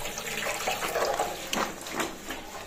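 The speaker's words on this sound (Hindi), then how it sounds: "टूटी में पानी कम आ रहा है" Tap water runs steadily at low pressure while food is rinsed in a home kitchen, a continuous close splashing and trickling with brief surges and no talk.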